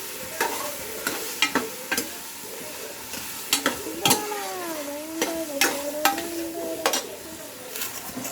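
Carrots tip into a hot pan and get stirred, with sharp scraping and clinking strokes at an irregular pace over a soft sizzle, and a high sliding tone drifting through the middle.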